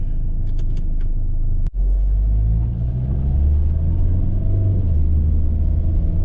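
Rover 75 Tourer diesel with a Jatco automatic gearbox driving in sports mode, heard from inside as a steady loud low engine rumble and drone, with a brief sharp click early on, no talk.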